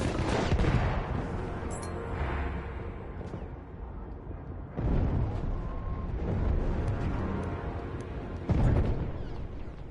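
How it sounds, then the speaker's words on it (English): Grenade blasts and gunfire in the Battlefield 1 video game, a dense, continuous barrage of booms and shots with sharp loud bursts near the start, at about five seconds and again toward the end. "Oh, grenade."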